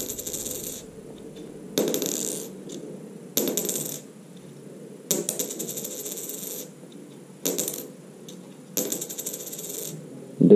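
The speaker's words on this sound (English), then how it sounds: "It's not very much, but you can hear the quality of the coin" A fake 2 euro coin is dropped repeatedly onto a hard surface, each drop a short bright clink followed by a brief dull ring, about six separate close, moderately loud impacts with quiet gaps between them.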